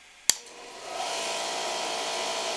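A cheap air compressor running off a Cobra power inverter switches on with a sharp click, then its motor spins up into a steady, loud mechanical whine that holds to the end.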